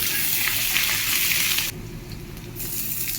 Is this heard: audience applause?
no